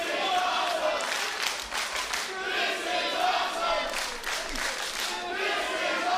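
Loud wrestling crowd at Championship Wrestling from Hollywood cheering and chanting in rhythmic waves, with shouts and scattered clapping filling the hall throughout.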